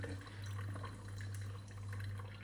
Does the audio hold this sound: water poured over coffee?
yes